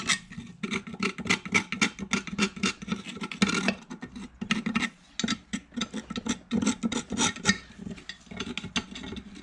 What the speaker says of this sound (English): I might just have to use a screwdriver to really scrape out into those